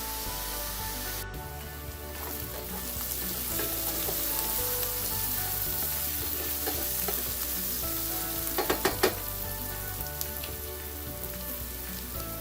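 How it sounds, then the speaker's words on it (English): Onions sautéing in a pan for a coconut dry chili prawn masala, a steady close sizzle and fry with occasional stirring scrapes, running alone without talk. "So we're going to saute this till our onions are a nice deep golden brown."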